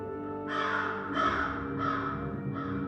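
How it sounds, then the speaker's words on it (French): A pair of fat crows caws outdoors, giving four loud, harsh calls in a slow, steady rhythm over a continuous low background tone. "en dehors d'une paire de corbeaux obèses"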